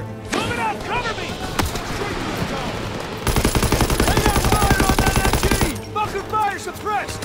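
Machine guns and rifles fire in a Call of Duty WWII battle. Scattered shots give way to a long, rapid, loud burst of automatic fire, and voices shout over the gunfire.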